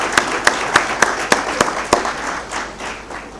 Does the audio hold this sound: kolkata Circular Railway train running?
no